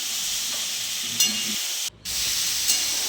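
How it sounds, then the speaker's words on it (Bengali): Steady sizzling of spices frying in a pan, with a brief stirring scrape midway and a short drop to near silence before the sizzle resumes. "এই যে এখন ভাজু ভাজু করছে সবগুলোই"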